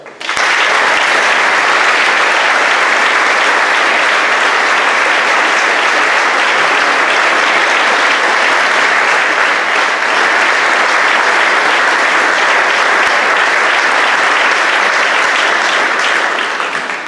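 Sustained loud applause from an audience at a high school senior awards ceremony, dense and even clapping without a break for the whole stretch.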